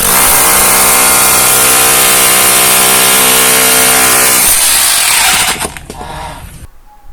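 A cheap Hujia cordless hammer drill bores into hard cast concrete with a loud, steady whining roar. The motor then cuts out, winds down and stops.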